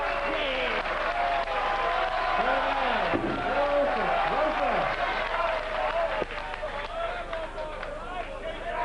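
Darts crowd at the 2002 PDC World Championship quarter-final, Phil Taylor vs John Part, roars and cheers loudly after a 146 checkout, a sustained wash of noise with a commentator's voice running over it.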